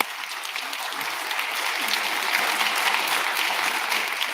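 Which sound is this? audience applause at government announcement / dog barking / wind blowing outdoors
audience applause at government announcement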